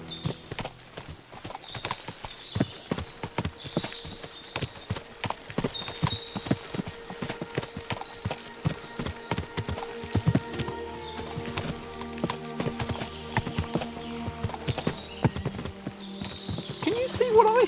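Many horses' hooves clip-clop steadily in Kingdom Come Deliverance 2, with repeated close hoofbeats and an occasional whinny over a continuous ambient game backdrop.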